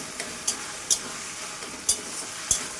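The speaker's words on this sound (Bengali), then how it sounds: "এবার ভালোভাবে নাড়াচাড়া করতে করতে একদম শুকিয়ে নেব।" Taro leaves and green chillies stirred in a pan while they fry dry, with a soft steady sizzle broken by a few sharp scraping stirs at uneven intervals, close and alone.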